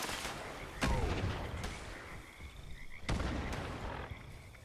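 Two fragment grenade explosions in Fallout 76, each a sharp, loud blast with a ringing tail, a few seconds apart, over ongoing game ambience.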